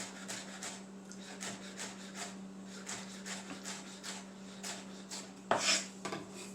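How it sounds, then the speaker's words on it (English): A knife slices food into strips on a cutting board while Puerto Rican beans are prepared, giving steady repeated scraping strokes with a low hum underneath and a sharper clack near the end. "What I'll do is I'll cut it into strips"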